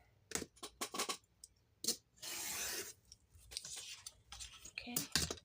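A journal page is trimmed along a score line with a few sharp clicks and a short rasping slide of the cutter, close and fairly quiet, with scattered handling noises around it.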